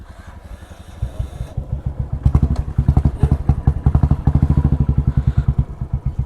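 Motorcycle on a ride: the engine starts softly, then a near, loud, rapid thumping exhaust beat builds and holds steady, pulsing evenly with no talking.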